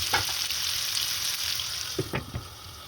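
Chopped tomatoes fry in a pan with a constant hissing sizzle, broken by several spoon scrapes and clacks as they are stirred, close and fairly loud with no voices.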